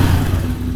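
Carbureted motorcycle engine idling steadily after its idle was lowered from too high, a loud, close, even mechanical drone for under a second.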